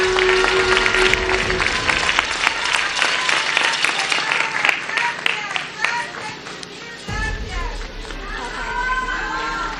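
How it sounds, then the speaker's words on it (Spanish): A crowd at an outdoor public event applauds the FAISPIAM committee with loud, dense clapping that thins out toward the end, while voices and children's chatter carry underneath. "Un aplauso para el comité del FAISPIAM."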